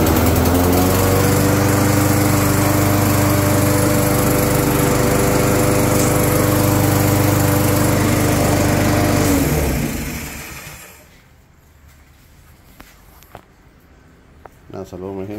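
A small gasoline engine with a newly replaced throttle cable runs loud and close, with a steady rattling drone. It holds for about ten seconds, then dies away and leaves a quieter background with a few light knocks.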